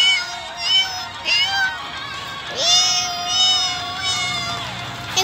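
A cat meows repeatedly, several drawn-out, rising and falling cries close by, as a voice calls to it in Portuguese.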